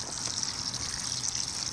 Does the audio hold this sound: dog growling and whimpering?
no